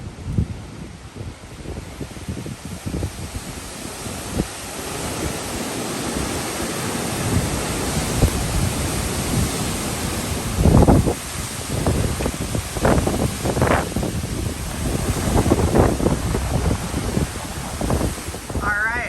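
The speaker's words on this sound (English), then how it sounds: "The wind's blowing so hard, and it is starting to rain" Strong wind gusts roar across an outdoor garden, broad and steady with louder bursts, as rain begins to fall.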